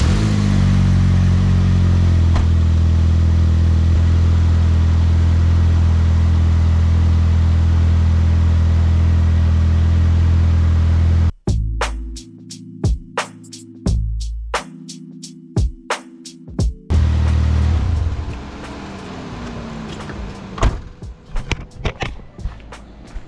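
After being started for a coolant leak check, a car engine idles loudly and steadily, then cuts off into a stretch of sharp, sporadic clicks and clatter before a quieter rumble returns.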